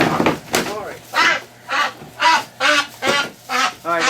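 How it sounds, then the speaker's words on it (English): A Muscovy duck gives a series of short, breathy quacks in a steady rhythm, about eight calls close by, with a faint hum underneath. "that's the first time I've heard a Muscovy quack."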